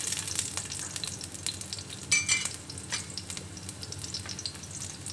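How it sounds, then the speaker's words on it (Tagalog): Garlic dropped into hot cooking oil for pinakbet, a steady crackling sizzle with a brief louder burst of spattering partway through, close up and alone with no talking. "Ayan po, mayroon na tayong mantika. So, ilagay na po natin yung ating bawang."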